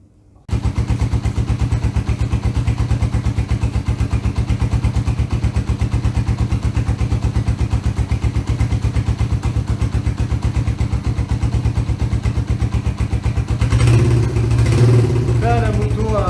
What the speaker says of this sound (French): la moto a un petit temps de chauffe